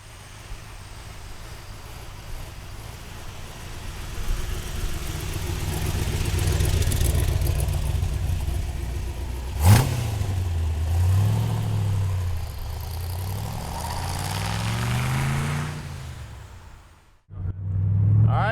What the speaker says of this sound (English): Little red Corvette, having a blast, side pipes, sounding great, driving awesome.